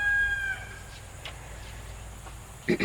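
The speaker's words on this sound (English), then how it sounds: "Do you hear the roosters?" A rooster crows briefly near the start in the countryside, a harmonic call fading out, followed by quiet background and a short burst of noise at the end.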